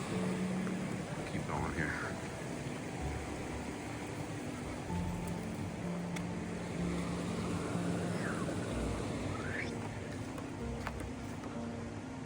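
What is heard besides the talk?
waterfall cascade on Fall Creek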